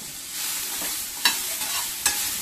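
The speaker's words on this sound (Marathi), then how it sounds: "आता आपण याच्यामध्येच आपले काजू छानसे असे परतून घेऊया।" Cashews and soaked chillies sauté in hot oil in a pan, giving a steady close sizzle with two sharp scraping strokes from a stirring spoon and no talk.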